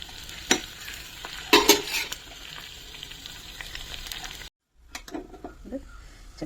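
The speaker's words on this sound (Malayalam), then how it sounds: "കുറച്ച് കറിവേപ്പില." Dried red chillies and curry leaves fry in hot oil in a pan, a close steady sizzle punctuated by sharp stirring scrapes and clatters, pausing briefly before resuming more quietly.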